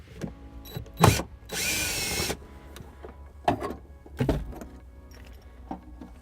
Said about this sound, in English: And my drill, I remove this one here.